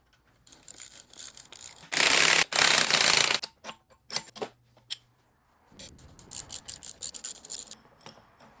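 A ratchet runs a nut down onto a BMW F30 strut assembly, fast bursts of clicking and rasping close by, with a short pause and then a longer, quieter run of ratcheting; no talking.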